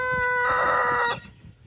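A chicken kept near goats gives a loud, close squawking call with a clear harmonic tone, lasting about a second before cutting off into quiet background.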